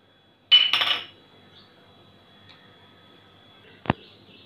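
Knife or spoon scraping rawa idlis out of a metal mould, a short clattering burst of metal on metal near the start, then quiet and a single sharp click toward the end.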